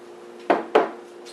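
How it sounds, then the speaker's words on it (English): A panini grill warming up, giving two sharp crackling pops about a quarter second apart over a low steady hum, fairly close and moderately loud. "Any crackling noises you hear right now, that's actually the panini grill."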